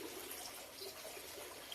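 Steady broadband rush of water running outdoors, a continuous trickling flow at even loudness throughout, with no voices over it.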